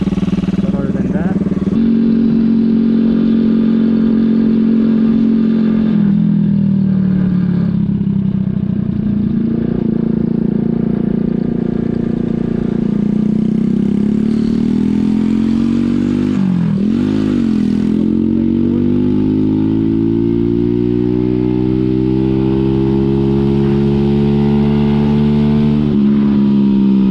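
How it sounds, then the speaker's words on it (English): A Skyteam PBR motorcycle engine runs steadily and close for a long stretch, its pitch dipping and climbing as it revs up and down. "the engine itself runs great"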